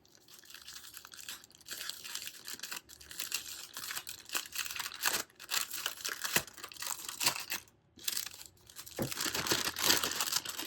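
Crinkling and tearing of packaging as a new paper product is unwrapped close by, with irregular rustles and crunches that pause briefly and then resume, and no talking.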